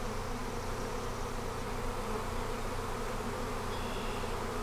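A swarm of honey bees flies outdoors among maple and spruce trees, a steady, dense buzzing drone that holds at an even level throughout, with no voices.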